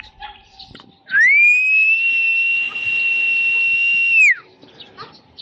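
A single long, steady whistle rises sharply, holds a clear high pitch for about three seconds, then drops away, with faint rustling before and after.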